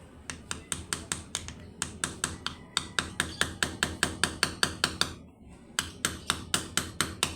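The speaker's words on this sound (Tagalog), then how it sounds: "Ngayon, pukpukin natin siya. Siyempre, gamit tayo ng martilyo." A hammer taps a bushing into place on an electric fan during a bearing replacement, giving a steady run of sharp, close metallic knocks in quick rhythm, with one brief pause before the taps resume.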